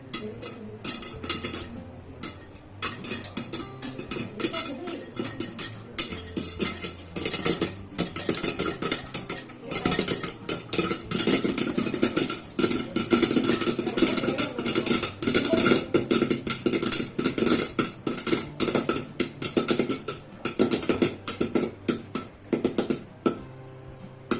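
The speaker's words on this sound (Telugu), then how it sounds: "ఇవైతే ఇప్పుడు పాప్ అవడం స్టార్ట్ అయినాయి" Popcorn pops in a pot on the stove, with many quick irregular ticks and clatters against the metal that grow denser and louder over time, continuing steadily without speech.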